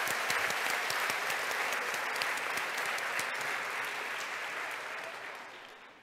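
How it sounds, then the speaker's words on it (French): An audience at a university event applauds in a sustained, even burst of clapping that gradually fades toward the end. "Je pense encore qu'on peut faire un tonnerre d'applaudissements."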